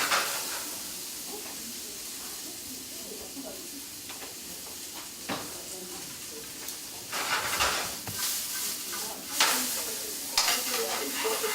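Onions and vegetables sauté in a pan with a soft, steady sizzle, punctuated by scraping stir strokes and louder bursts of frying toward the end.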